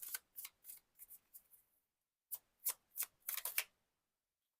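Tarot cards are shuffled and drawn close up: a quick run of crisp riffling snaps, a pause of near silence, then another cluster of sharp card flicks.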